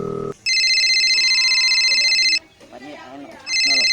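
A telephone ringtone plays loud and close in two electronic bursts, the first long and the second starting near the end, with a brief voice in the gap between them.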